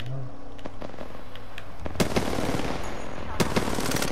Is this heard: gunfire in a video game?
yes